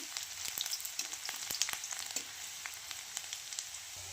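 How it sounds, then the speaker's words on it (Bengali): Cumin seeds, green chili and onion frying in hot oil in a pan, a quiet crackling sizzle with scattered small pops and spits, heard close with no talking. "তেল গরম হয়ে গেছে, আমি এতে কিছুটা জিরে ফোড়ন দিয়ে দেব, কাঁচা লঙ্কা, পেঁয়াজ হালকা"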